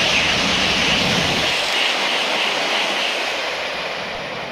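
A Shinkansen N700 series bullet train rushes past at high speed, a loud broad roaring whoosh that holds steady then slowly fades as it moves away.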